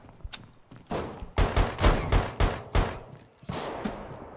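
Rapid gunfire in the survival shooter Deadside, a loud burst of close shots cracking in quick irregular succession, with dense overlapping reports for several seconds.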